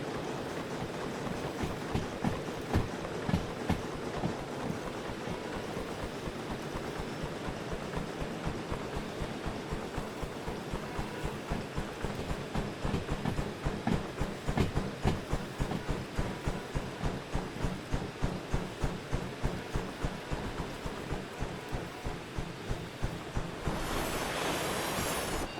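A locomotive in the train game Derail Valley rolls along rails with a steady rhythmic clatter of wheels over track joints and a continuous low rumble, and a brief burst of noise comes near the end.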